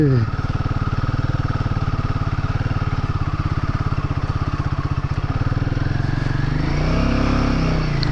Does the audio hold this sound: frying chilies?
no